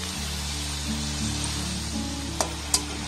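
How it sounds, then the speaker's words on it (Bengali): Coconut puli pitha fry in oil over a low gas flame, giving a steady, soft sizzle throughout, with two brief sharp clicks near the end. "সবগুলোকে আমি তেলের মধ্যে দিয়ে দিয়েছি। এবার এগুলোকে আমি খুব ভালোভাবে ভেজে নেব।"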